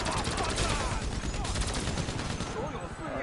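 Gunfire in GTA 5 Online, a dense rapid fusillade of automatic shots rattling continuously at close range, loud and unbroken for the whole stretch, with a voice faintly mixed underneath.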